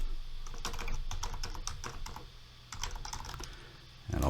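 A computer keyboard clatters at close range as a folder name is typed, a quick run of light clicks that pause briefly and then resume, with no voices.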